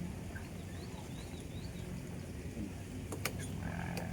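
Chickens cluck faintly at a campsite in Laguna overlooking Mt. Makiling, a few soft distant calls over a steady outdoor hiss of insects and ambient noise, with no voices.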